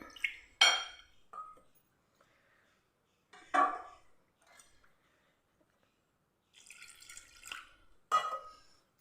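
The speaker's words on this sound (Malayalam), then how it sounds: "ഇനി നമുക്കിതിലേക്ക് വെള്ളം ഒഴിച്ചിട്ട് നല്ലപോലെ നമുക്കൊന്ന് കലക്കിയെടുക്കാം" Water poured into a maida and coconut batter and mixed in a bowl, heard as a few short splashy bursts and soft clinks separated by quiet gaps, fairly close and faint overall.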